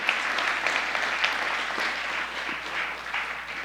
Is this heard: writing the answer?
no